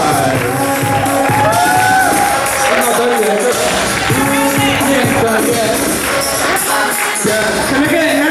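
An audience at a gala ball claps and cheers, a dense, continuous wash of applause and whoops that stays loud from start to end, with a voice talking over the crowd.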